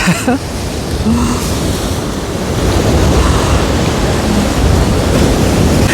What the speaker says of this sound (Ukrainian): Ух, тут вітерець на цьому пірсі.